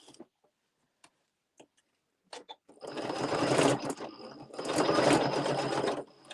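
A sewing machine stitches a seam on a Luxe Cuddle Fair Isle wrap, two sustained runs of steady whirring separated by a short pause, preceded by a few soft clicks and taps.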